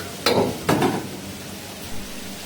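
Chopped vegetables being stir-fried for chicken noodles in a pan, two loud scraping tosses early on followed by a steady sizzle and a fainter stir near the end.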